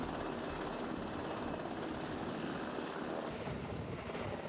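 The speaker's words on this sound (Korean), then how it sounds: "연막탄으로 아군 헬기의 위치를 알리자 헬기가 다가옵니다." A military search-and-rescue helicopter of the air force approaches during a tactical pilot-rescue exercise, its rotor and engine a loud, steady, close roar that holds throughout with no talk.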